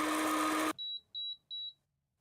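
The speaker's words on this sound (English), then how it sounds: "The beeps say we're done." A coffee roaster finishing a roast: a broad whooshing hum cuts off, then three clear, evenly spaced electronic beeps sound close by, with no talk.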